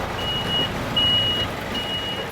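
A lorry carrying six young bison manoeuvres along a rough forest track, sounding three steady high reversing beeps at a slow regular pace over a constant low engine rumble.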